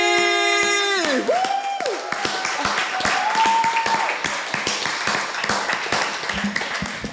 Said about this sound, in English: we have to give them a very special round of applause